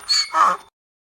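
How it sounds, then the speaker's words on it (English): A donkey brays, a short two-part call: a breathy high inhale followed by a louder, lower exhale, close and alone before silence. "Yes, it's donkey."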